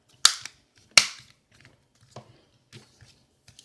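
The plastic back cover of a Vkworld F2 phone snapped shut: two sharp loud clicks close together, followed by several softer presses and taps as the edges seat.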